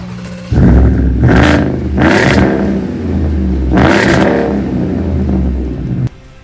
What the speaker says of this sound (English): the exhaust, which again just gives it a pretty sweet sound